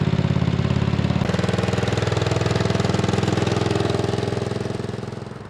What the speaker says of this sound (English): It made me real happy to get this tractor up and running again and drive it again, and it sounded pretty good